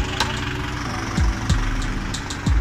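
A Kubota 4501 tractor engine idles with a steady low, smooth rumble while people talk nearby, their voices rising over the engine at intervals.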